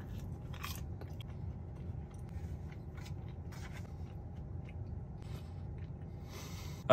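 Someone chews roasted potato close by, with quiet, continuous mouth sounds and scattered soft crunches, without speech.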